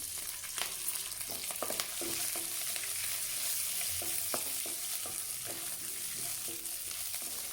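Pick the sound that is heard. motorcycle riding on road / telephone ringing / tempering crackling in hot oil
tempering crackling in hot oil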